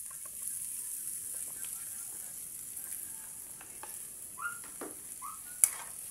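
Carrots and potatoes sauté in a pan with a soft, steady sizzle and frying hiss, broken by a few faint stirs and light clinks of a utensil against the pan.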